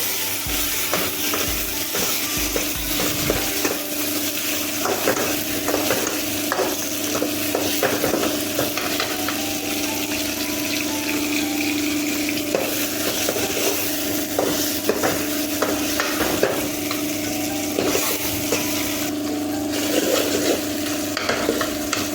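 Chopped tomatoes and sautéed onions stir-fried in a pan, with steady close sizzling and repeated scraping, stirring strokes of a utensil against the pan throughout, loud and continuous with no talking.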